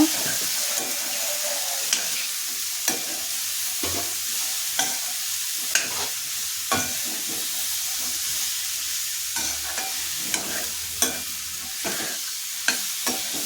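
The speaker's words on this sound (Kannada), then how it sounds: "ಈ ಹಂತದಲ್ಲಿ ಬೇಯಿಸ್ಕೊಂಡಿರುವಂತಹ ಕಾಳನ್ನು ಈ ಕಾಯಿ ಮಿಶ್ರಣದ ಜೊತೆಗೆ ಎಲ್ಲ ಮಿಕ್ಸ್ ಆಗೋ ಥರ ಮಿಕ್ಸ್ ಮಾಡ್ಕೊಳ್ಳೋಣ" Cooked chickpeas being stirred into a grated coconut mixture in a pan for a festival offering: steady scraping and stirring with a soft sizzle, punctuated by sharp clinks of the spoon against the pan roughly every second, close and clear with no talk.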